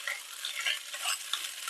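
Grated coconut being mixed with a pinch of salt for kozhukattai, a steady close stirring and scraping rustle with no talk.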